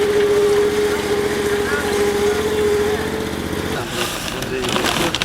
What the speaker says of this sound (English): The Terrier 2000 is a self-propelled geo-environmental drilling rig.